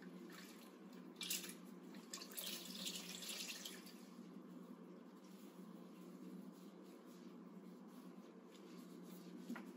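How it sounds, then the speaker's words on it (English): Water runs and splashes steadily while a caregiver rinses a patient's pubic area during a bed bath, a continuous close trickle with small surges and no talk. "Rinsing."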